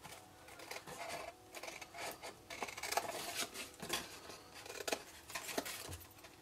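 Scissors cutting card to make a chalk marker cube, a series of quiet, close snips and rustles of paper and card at an uneven rhythm, faint and alone with no talk.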